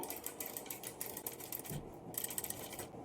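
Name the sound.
sewing machine stitching sleeve cut work design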